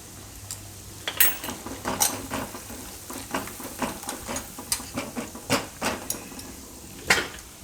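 Spoon clinks and scrapes against a bowl as mint, coriander and curry-leaf panipuri-flavour seasoning is mixed for puffed rice, a steady run of light irregular taps close by, with no talk.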